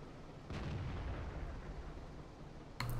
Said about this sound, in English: Somebody's shooting HE at him